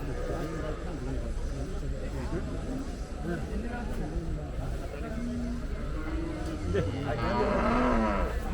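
Cattle at a livestock market moo, with long low calls rising out of steady crowd noise and nearby talking, and a louder moo near the end.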